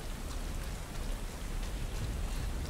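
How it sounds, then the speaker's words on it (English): Steady rain falling in a jungle in Tomb Raider: Underworld, a dense continuous hiss of drops at moderate level with no talking. "It's just a rainy jungle."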